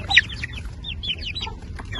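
An Aseel rooster clucks in short, bright bursts close by, a quick run of throaty calls over a low background rumble.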